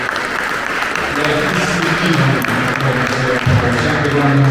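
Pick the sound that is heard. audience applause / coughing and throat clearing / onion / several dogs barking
audience applause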